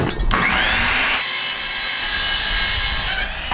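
A hand saw cuts through a short wooden board in a garage studio, with steady rasping strokes, close and clear, alone without talk.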